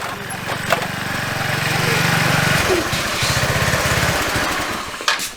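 A GY6 150cc scooter engine runs with a steady, buzzing low thrum while being ridden, its pulsing note shifting midway, with a voice speaking over it.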